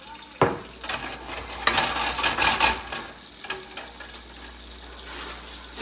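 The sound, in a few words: baby spinach and spaghetti cooking in a pan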